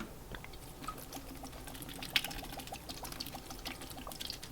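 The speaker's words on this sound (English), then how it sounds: "Put in some apple cider vinegar." Apple cider vinegar poured into a big stock pot for duck stock, a soft continuous liquid pour with light splashing and faint clinks, steady and close, with no talking.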